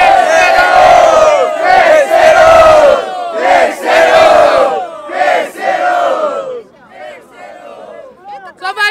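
A large crowd at an outdoor freestyle rap battle in Barueri, Brazil, shouts and cheers in loud, roaring waves that swell and drop, with scattered individual yells as the noise dies down.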